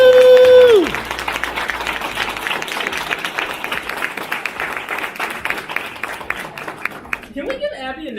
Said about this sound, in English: Can we give Abby another round of applause?